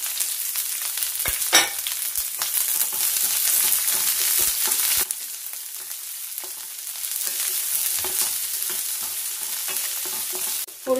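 Shallots, garlic and green chillies frying with grated coconut in a pan, a steady close sizzle with occasional stirring scrapes and crackles.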